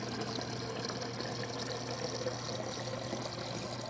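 A water bottle is refilled from a tap, with a steady, fairly faint stream of running water filling it continuously and no talking.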